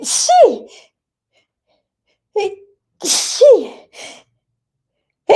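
Two sharp sneezes a few seconds apart, each with a quick intake and loud burst, in an Italian live stream; a short sound and brief speech follow between them.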